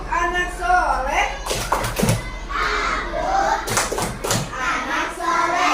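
Children in a classroom clap their hands in bursts along with a chanted clapping song, several quick clap clusters mixed with loud group chanting voices nearby.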